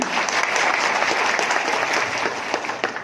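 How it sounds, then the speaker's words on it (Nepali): An audience in a hall applauding at a motivational speech event, dense, loud clapping from many hands that holds steady for a few seconds. "एकदमै जोरदार ताली उहाँहरूलाई दिउँ।"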